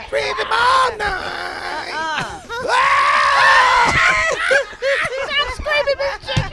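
A woman screams loudly and repeatedly in sustained wails, mixed with groans and other voices in a lively comedic radio show scene.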